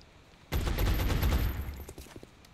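Gunfire in the XCOM Enemy Within video game: after a quiet lead-in, a sudden loud burst of rapid automatic shots erupts, rattling on densely for about a second before trailing off into scattered echoing reports.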